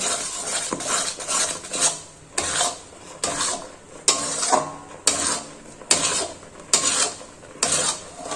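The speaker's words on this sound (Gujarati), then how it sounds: "હવે કન્ટિન્યુ આ રીતના હલાવતા રહેવાનું છે" A spoon scrapes a thickening saffron milk mixture around a pan for penda, repeated rhythmic scraping strokes about once a second, close and clear, with no voices.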